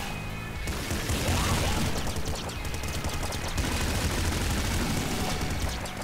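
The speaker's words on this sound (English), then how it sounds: "Double flame shotgun?" Rapid, loud bursts of a double flame shotgun firing in Nuclear Throne, blasts crackling almost continuously over a dense, busy game soundscape.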